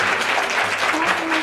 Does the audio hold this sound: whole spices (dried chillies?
no